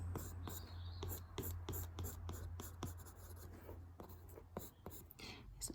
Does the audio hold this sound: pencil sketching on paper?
yes